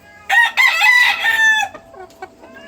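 A white Kelso chicken clucks loudly and rapidly up close, a burst of squawking calls that tapers into a few softer clucks.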